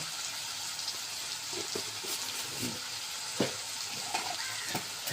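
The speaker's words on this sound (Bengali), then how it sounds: "এবার নাড়তে থাকবো যতক্ষণ তেল না ছাড়বে ততক্ষণ নাড়ব" Spice masala of ginger-garlic paste, turmeric, chili and cumin frying in oil, with a steady sizzle and occasional spoon scrapes and knocks close by.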